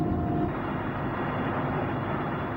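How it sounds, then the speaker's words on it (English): Aging, overworked Mi-17 helicopter flying over mountains toward the Panjshir Valley in Afghanistan, heard as a loud, steady engine and rotor drone with a broad rumbling roar and no talk. "the aging, overworked Mi-17 chopper lands in a cloud of dust"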